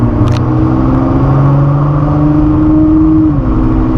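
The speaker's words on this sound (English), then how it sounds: "We're going to be a bit cheeky and just drive it onto the Mulsanne straight right here." Ford GT on the road at Le Mans heading onto the Mulsanne straight: a steady, loud engine drone from inside the car, its pitch slowly rising and then dropping slightly as the speed shifts.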